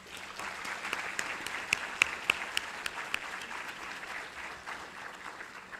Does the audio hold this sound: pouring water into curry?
no